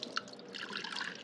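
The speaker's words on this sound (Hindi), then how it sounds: "पानी इधर से भर लेते हैं," Fresh water is poured to fill the drinking container of a bird cage, a quiet, close trickle with a few small drips and splashes over about a second.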